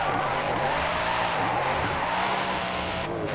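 Continuous loud tire squeal from a car drifting sideways in the video game Forza Horizon 5, screeching over a steady engine roar throughout, with no talking.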